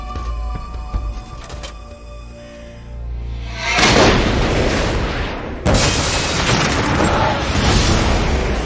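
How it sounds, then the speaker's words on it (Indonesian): A suitcase explodes in an action thriller film: a sudden heavy boom follows a quieter tonal passage, a second blast hits soon after, and the roar stays loud and rumbling to the end. "Ledakan itu dipastikan oleh Frank berasal dari koper yang tengah ia bawa"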